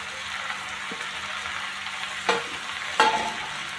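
Hadga (agasti) flowers being stirred in a hot pan with a steady close sizzle, two sharp scraping strokes of the spoon standing out near the end, with no talking.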